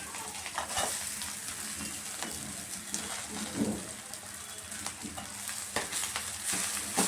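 Boiled, drained moringa leaves frying with browned onions in a pan, a close steady sizzle broken by scraping stirring strokes and soft clatters, no voices over it.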